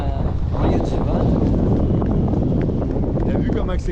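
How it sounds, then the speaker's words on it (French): Strong wind buffets the microphone during a hang-glider flight over a site, a loud, constant roaring rush filling the whole stretch, with faint voices underneath. "Impressionnant comment il y a du vent."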